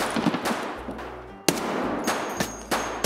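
Enemy gunfire aimed at the player in a shooter video game, a few sharp distant-sounding shots cracking out separately over a low rumbling background, brief and moderately loud.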